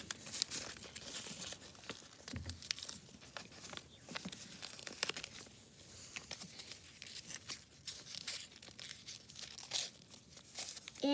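Paper is folded and creased for an origami spinner, close, faint crinkling and crackling with irregular small snaps and rustles.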